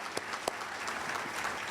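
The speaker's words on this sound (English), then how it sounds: "they really deserve a big round of applause" Applause for scholarship recipients at an award event, a short burst of clapping from a gathered audience with a couple of sharper claps standing out, steady and moderately close.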